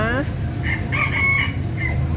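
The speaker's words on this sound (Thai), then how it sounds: "อุ้ย เสียงพี่ไก่อีกแล้ว" A rooster crows briefly nearby at a roadside rest stop, a short rising call at the start, after which someone speaks over low background noise.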